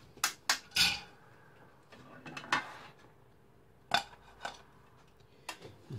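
A cooked frozen pizza comes out of a JML multi cooker with a series of sharp metallic clanks and clicks of the lid and tray, spaced irregularly and close by over a quiet background.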